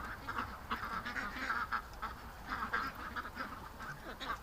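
Several ducks quack in a loose, irregular chorus at moderate distance over a steady outdoor background, with one small, quick duckling among them.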